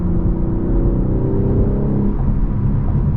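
BMW G80 M3 50 Jahre Edition with a manual gearbox pulling hard after a downshift, a deep, loud engine rumble from inside the cabin rising steadily in pitch as it accelerates, with no voices.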